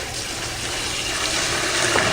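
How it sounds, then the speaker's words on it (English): Water dumped into a tank for lye liner removal, a steady broadband rushing pour that swells slightly toward the end, with no talk. "Dump the rest of the water in."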